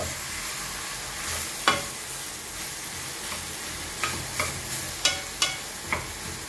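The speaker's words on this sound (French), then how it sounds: "Tournez vos légumes" Vegetables sweating in a pan give a soft, even sizzle under a series of light scraping and clicking stirs from a utensil, mostly clustered in the latter half.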